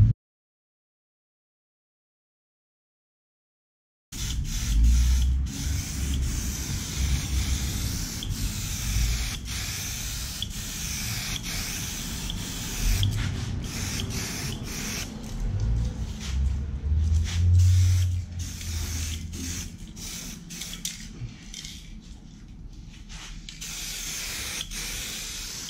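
Aerosol spray paint hissing onto Yamaha Vmax motorcycle air ducts, a steady close spray with short gaps and bursts, starting after a few seconds of silence and running continuously with no talk.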